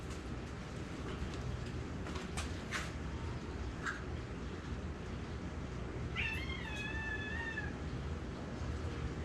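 A single drawn-out cat meow rises and falls midway through, heard over a steady low rumble with a few faint clicks earlier.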